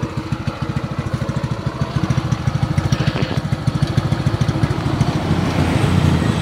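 A TVS XL100 moped's small single-cylinder engine idles just after a push start, a close, rapid, even putter with a steady pulsing beat that grows slightly louder and fuller toward the end.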